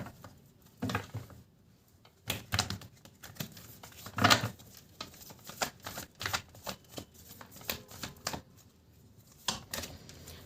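A deck of cards being shuffled, quiet close riffles and flicks in irregular bursts with soft taps between them.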